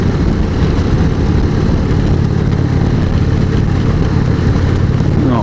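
An Indian Springfield motorcycle engine lugging at low revs in fifth gear on the road, a steady, loud low rumble with wind noise that holds unchanged for the whole stretch.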